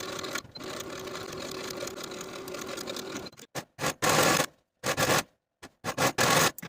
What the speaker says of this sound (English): Sew your left side seam from underarm seam to the bottom of the dress with a 5/8 inch seam allowance